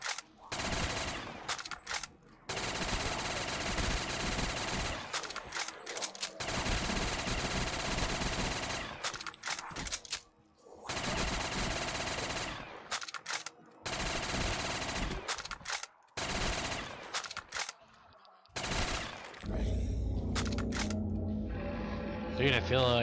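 Rapid automatic gunfire blasts at zombies in Black Ops 3, long loud bursts broken by brief pauses and reloads, with a voice talking at times.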